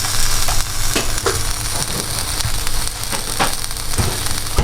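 Loud, close sizzle of chili paste frying in a pan while a big spoon stirs it, crackling steadily with occasional scraping taps.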